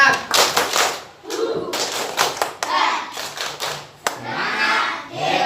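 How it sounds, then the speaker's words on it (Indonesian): A school class does a rhythmic spirit clap, groups of sharp hand claps in a patterned beat mixed with children's voices chanting along, close and lively. "marilah kita tepuk semangat terlebih dahulu"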